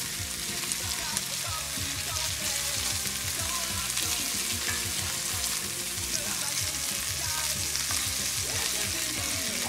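Ingredients, including cheese, stirred fast in an oiled frying pan for a greasy sandwich: loud continuous frying sizzle with busy rapid scraping and stirring clatter throughout, close up and with no talk.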